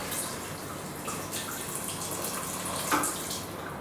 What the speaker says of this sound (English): This has gone a bit thick, so I just add a bit of water.